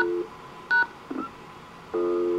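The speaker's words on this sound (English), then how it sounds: "I'll go ahead and dial on this phone" Touch-tone keypad dialing on a payphone demo line for an automated coin toll system: several crisp dual-tone beeps of varying length with short gaps, close and clear, no talk.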